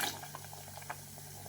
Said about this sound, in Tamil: இப்போ தேவையான அளவு தண்ணி ஊற்றிக்கலாங்க.